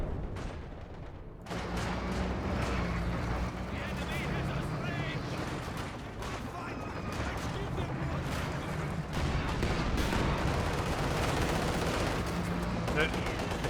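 Dense artillery barrage and rapid gunfire in the real-time strategy game Company of Heroes 2, a continuous stream of overlapping blasts and machine-gun bursts with a voice talking over the combat.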